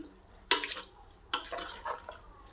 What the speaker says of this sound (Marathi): आता छान एकत्र करून घेऊया सगळं अळू आपण